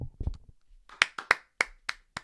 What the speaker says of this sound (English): I'm clapping it up.